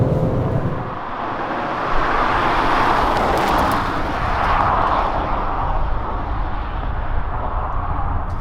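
A 2020 Genesis G70 with a twin-turbocharged 3.3-liter gasoline engine drives along, its steady engine drone and road and wind roar filling the cabin continuously with no talk.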